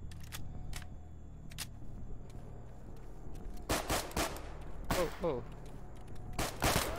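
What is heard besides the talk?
gunfire in the video game Stalker Gamma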